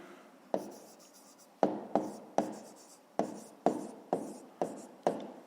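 A pen scratches across paper in a math workbook, a series of short, close strokes with brief pauses between, quiet and without any talking.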